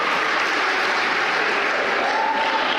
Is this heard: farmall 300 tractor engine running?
no